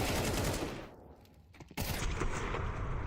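Rapid automatic gunfire in the Counter-Strike 2 video game, loud dense bursts that thin briefly to a lull before a sharp close shot and another sustained spray of rounds.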